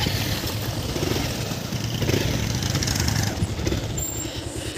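A motorcycle engine rumbles steadily nearby during an off-road ride, a low continuous idling drone with slight fluctuations, with no clear talking.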